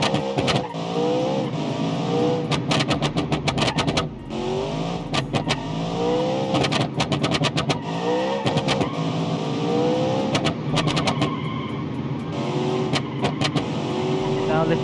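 A 1,000-horsepower supercharged and turbocharged engine in the Automation car game revs repeatedly, loud and continuous, with sharp gear-like cuts and rising pitch sweeps throughout, as a voice talks over it.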